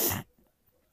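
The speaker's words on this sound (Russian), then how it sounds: "Это я так чихаю, да, чтобы соседям было смешно." A single loud, close sneeze burst at the very start, cutting off sharply into near silence.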